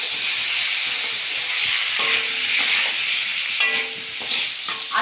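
Potatoes and ground cumin-coriander spice paste sizzle and hiss in a hot pan while being stirred, a steady close frying crackle with occasional scraping of the spatula.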